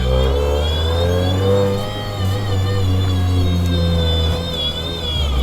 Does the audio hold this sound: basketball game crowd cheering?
no